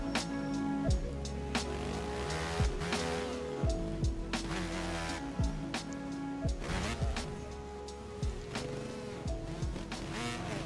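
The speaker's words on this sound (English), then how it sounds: "Someone's on a two-stroke." Two-stroke motocross bike engines in the MX Bikes video game during a supercross race, buzzing and revving in sharp rises and drops, several bikes overlapping at close range with repeated quick throttle blips.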